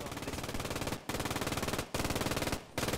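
Rapid machine-gun fire rattles in long continuous bursts during a video game match, broken by three brief pauses, steady and fairly loud with no talking over it.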